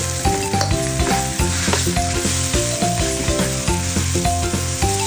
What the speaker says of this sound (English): Add in 1 pound of ground pork and continue stir-frying.